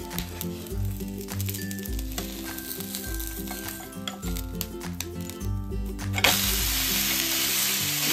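A moong dal dosa sizzles on a hot pan as it is turned over, a low frying hiss under background music that swells into a loud, steady crackle after the flip.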